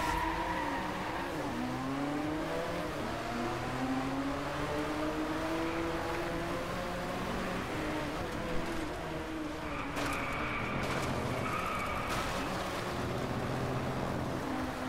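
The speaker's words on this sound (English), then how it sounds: "Bouncing off the limiter, I couldn't hear my own car." A race car in the Driveclub racing game bounces off its rev limiter, a continuous loud engine drone with rising and falling pitch sweeps, stuttering revs and faint tire noise.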